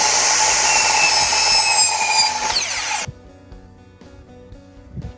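A power saw cuts wooden cross pieces for a shutter with a loud, close, whining buzz that ends abruptly about midway. Quiet handling clicks and faint shop noise follow.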